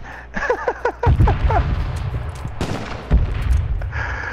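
Gunfire rings out in an H1Z1 battle royale match, with sharp shots and bursts of varying loudness, some close and punchy, over a busy game soundscape with a brief voice-like sound at the start.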